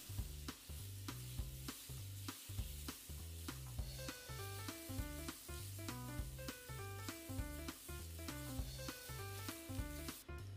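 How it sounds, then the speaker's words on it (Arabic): Pieces of homemade KFC-style fried chicken sizzle steadily in hot oil, a dense continuous crackle with a strong rhythmic low thumping pulse running underneath throughout, no voices. "نكمل باقي القطع نضيفهم بالزيت، ننتظرهم 10 دقائق بين ما يستوون."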